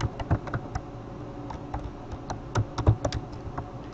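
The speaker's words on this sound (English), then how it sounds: "I'm going to type in here rheumatoid" Typing on a computer keyboard, a loose run of close, crisp key taps with uneven pauses and a few quick clusters.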